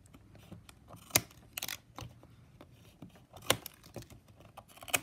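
Scissors snip through plastic strapping band on a small woven square basket, a series of sharp, close clicks and cuts spaced irregularly over soft handling noise.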